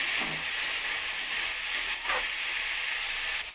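Pumpkin, potato and yardlong beans fry together in a pan with a loud, steady hissing sizzle. A few soft stirring scrapes break in, and no one speaks.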